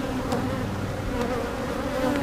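Honeybees from an open hive colony in a bee yard drone in a steady, dense buzz, close and continuous, with a few individual insects passing nearer.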